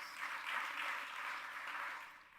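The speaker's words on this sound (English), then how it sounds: "I think that's a round of applause also" Applause from an audience at a county State of the County address, a steady wash of many hands clapping, moderately distant, with no talk over it, tapering slightly at the end.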